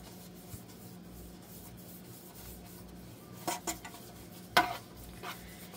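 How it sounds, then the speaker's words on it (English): Oil is brushed into a baking pan for sourdough: a faint, soft rubbing with a couple of brief scrapes and knocks against the pan near the end, in an otherwise quiet room. "Putting it on with a brush, trying to make sure no little hairs from the brush stick in my pan."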